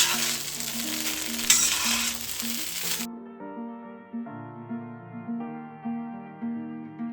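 Garlic shrimp and rice sizzle and get tossed in a hot pan, a dense frying crackle for about three seconds, then gentle scraping and stirring under soft tonal background music.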